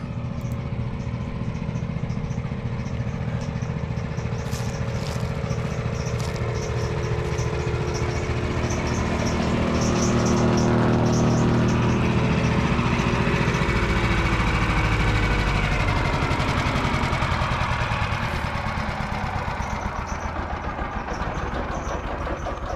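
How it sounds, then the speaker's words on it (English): A wood chipper engine runs while chipping pine limbs from a large tree removed beside a house, a steady loud mechanical drone with a rising swell midway as branches feed through, continuous for over twenty seconds. "also brought the chipper in to finalize the chipping"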